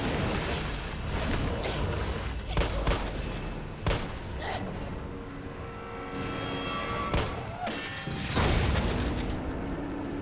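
Video game gunfire from Resident Evil 3 Remake as a magazine is emptied into a corpse: a string of sharp shots and booms over a dense, busy game mix, fairly loud and continuous throughout.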